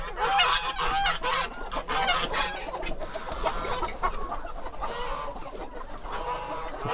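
Farm chickens cluck and squawk in a busy, overlapping chorus, several birds close by calling continuously throughout.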